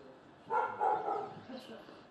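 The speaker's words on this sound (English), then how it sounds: "Do you hear the dog?" A dog barks a few times at a distance along a residential street lined with fences, the short barks sitting low in the mix with faint background ambience.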